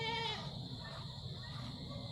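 Goats bleat loudly and close by on a farm in the Philippines, with one clear wavering call at the start followed by continuous noisy animal sounds.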